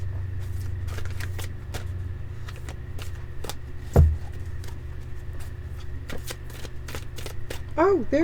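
Playing cards being handled and shuffled, soft repeated flicks and snaps over a steady low hum, close by, with a thump midway and a voice near the end.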